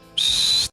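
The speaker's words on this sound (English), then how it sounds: "That's the whistle." Sports podcast whistle sound effect triggered from a soundboard button: one sustained, piercing referee-style blast lasting about half a second, loud and clean, then cut off abruptly.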